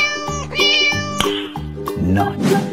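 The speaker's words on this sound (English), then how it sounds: "Cat." A cat meows loudly several times in a row, each cry drawn out and close, with brief gaps between and no talking.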